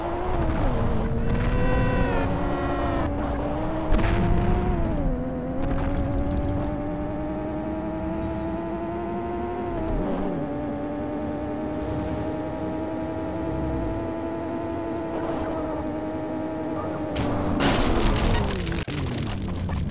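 A car engine drones as it drives, its tone gliding up and down with throttle changes, holding steady for long stretches and briefly surging louder near the end.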